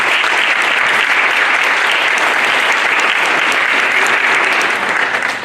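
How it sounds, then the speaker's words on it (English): Loud, sustained applause from a school board meeting audience for student club sponsors, many hands clapping steadily without a break. "can we give all of our Beta sponsors a big round of applause"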